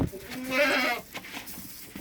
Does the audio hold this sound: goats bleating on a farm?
yes